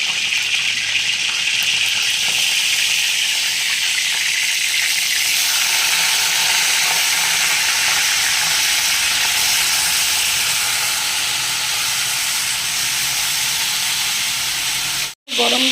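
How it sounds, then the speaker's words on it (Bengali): Soaked cauliflower dropped into hot mustard oil in a wok, a loud, steady spitting sizzle close by that eases slightly over time before a brief cut near the end. "কপিগুলো ভেজে ফেলবো"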